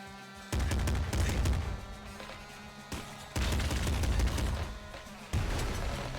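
Heavy gunfire from a big gun in a video game booms in three powerful bursts, each a loud rumbling blast that trails off, with a steady electronic drone underneath.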